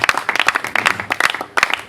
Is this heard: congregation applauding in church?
yes